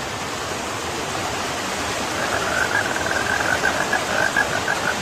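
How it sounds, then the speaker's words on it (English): Steady rain in Mississippi hisses in a continuous wash of noise, growing slightly stronger partway through, with no voices. "I told you, it's raining!"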